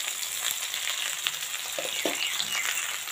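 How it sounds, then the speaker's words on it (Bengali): Taro stolons and dried shrimp fry and get stirred in a pan, a steady bright sizzle with occasional scraping from the stirring, close and continuous. "আর তার সাথে কচুরলতাটাও কিন্তু ভালো করে ভাজি নিন।"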